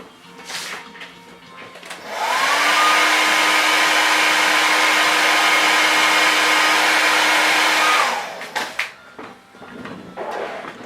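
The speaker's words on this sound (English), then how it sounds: "Let's hit it with a blow dryer first." A handheld blow dryer roars steadily for about six seconds on fresh paint on a custom Velma Dinkley statue, loud and close with a stable whine, starting and cutting off cleanly between small handling clicks.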